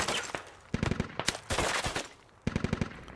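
A heavy machine gun fires in a SquadOps military video game, loud and close, in several short, rapid bursts separated by brief gaps.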